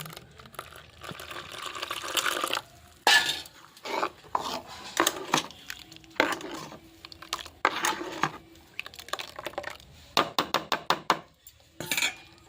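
A spoon stirs water into a thick ground-corn paste in a bowl for homemade corn flour, with clinks, wet swishes and scraping strokes arriving in irregular bursts and pauses, close by.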